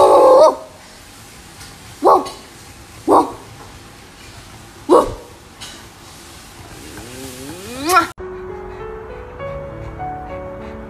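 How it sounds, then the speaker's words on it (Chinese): A Chow Chow dog gives about five short, separate barks spaced a second or two apart, close and fairly loud, before light music takes over. "我们一起学团子教， 汪汪汪！"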